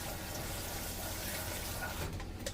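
A kitchen tap runs steadily into a sink while a pan used for homemade HP sauce is washed up, with water splashing and gurgling close by and no talking.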